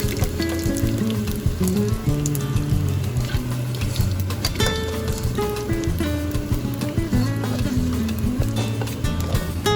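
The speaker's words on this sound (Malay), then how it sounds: "kita goreng terung sehingga masak" Eggplant fries in hot oil in a pan, giving a dense, continuous sizzle and crackle. It is close and fairly loud, with scattered louder pops throughout.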